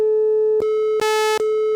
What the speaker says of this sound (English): Just go back to the sine wave